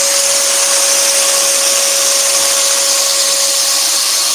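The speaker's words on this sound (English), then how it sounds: "So just popping the extraction on for these little cuts" Woodworking dust extraction runs as a steady, loud, continuous whoosh with a constant whine, alone and unbroken throughout.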